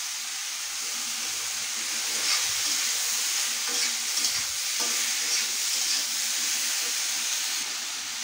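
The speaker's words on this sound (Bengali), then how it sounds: "এখানটা জিরে ফোড়ন দিয়ে দিচ্ছি, শুকনো লঙ্কা ফোড়ন দিয়ে দিচ্ছি" Cumin seeds and dried red chillies sizzle in hot oil for a tempering, giving a steady, close hissing crackle that holds evenly throughout with light stirring scrapes and no voices.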